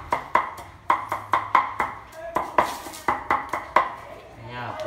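Rapid, irregular knife chops on a cutting board, sharp clacks in quick bursts with a brief pause midway, close up, as shallots are minced.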